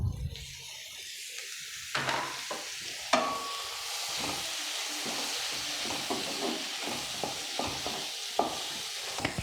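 Onions and tomatoes for paneer butter masala fry in a pan with a steady sizzle, punctuated by repeated scrapes and clacks of stirring, close and clear with no talking.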